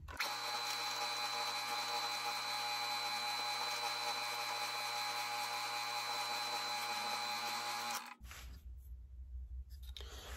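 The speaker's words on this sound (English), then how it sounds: "So let's get these drilled, these three holes drilled," A drill press runs with a steady motor hum and whine while drilling holes in knife handle scales, then stops abruptly near the end, leaving quiet handling noise.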